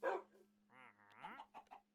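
Dogs in the Minecraft video game bark and whine, a sharp bark followed by a drawn-out whimpering yelp and short yips, fairly faint and heard alone.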